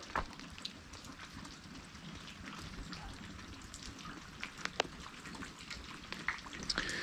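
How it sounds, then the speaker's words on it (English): Light rain falls steadily outdoors at an RV site on a snowy day, a soft continuous patter with scattered faint drips and taps, no voices. "a little rain."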